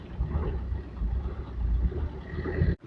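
A farm vehicle is driven out through an onion field, giving a close, steady low engine rumble with some wind buffeting across the microphone, which ends abruptly.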